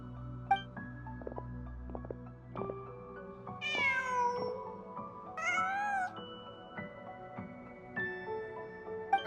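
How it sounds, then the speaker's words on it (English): A video game cat meows several times in rising, drawn-out cries, close and clear over quiet ambient game music, with no talking. "Huh. Just a cat."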